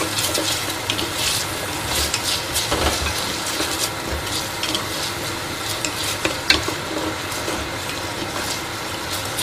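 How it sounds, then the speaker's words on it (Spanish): Marinated chicken sautés in a pan for a Spanish stew, with a continuous sizzle and frying crackle, occasional stirring scrapes, and no voices. "vamos a que rehogue"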